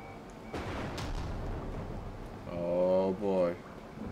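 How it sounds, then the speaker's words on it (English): A warbling, pulsing alarm tone sounds from 2.5 to 3.6 seconds in Tomb Raider, rising twice in quick bursts over rumbling game ambience and a few dull booms, with someone talking through parts of it. "Like an alarm or something."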